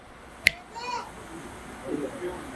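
A single sharp finger snap cracks out close and bright, followed by faint background sounds and murmuring in a lecture hall.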